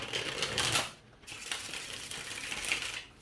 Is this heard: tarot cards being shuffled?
yes